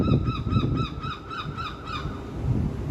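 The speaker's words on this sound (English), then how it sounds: "Go on, seagull fight!" Seagulls squabble and tug at a chip outdoors, giving repeated harsh, wailing calls in a rapid series over about two seconds, loud and close, with steady background rumble.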